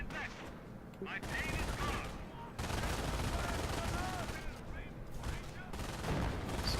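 Machine guns fire in the wartime strategy game Company of Heroes: continuous dense rattling bursts with brief gaps, loud and close, layered with other battle noise.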